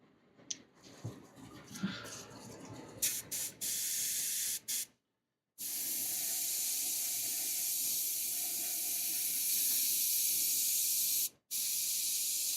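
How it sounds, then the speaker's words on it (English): An airbrush sprays paint in short hissing bursts, then long steady hisses with brief pauses, close and fairly quiet. "it comes out from the airbrush pretty good"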